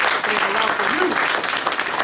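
Loud audience applause fills the hall as steady, dense clapping, with a voice calling out briefly under it.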